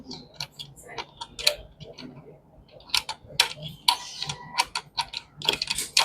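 Screws are fitted to the stand of a Walton WD215I09 monitor. Sparse, faint, close ticks and small metallic clicks come in irregular clusters, with light handling noise in between.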